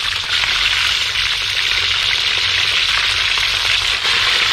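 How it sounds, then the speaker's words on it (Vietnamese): Catfish frying in hot oil, a loud, continuous crackling sizzle heard up close and alone, steady throughout with no talk. "Bỏ vô cho dầu thơm cho chiên cá."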